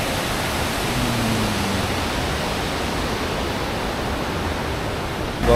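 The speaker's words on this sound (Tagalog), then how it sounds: "Golden Waterfalls." Golden Waterfall near Jiufen, Taiwan, rushes as a loud, steady, unbroken roar of falling water that holds at the same level from start to finish.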